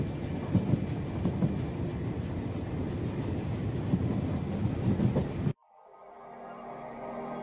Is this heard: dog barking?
no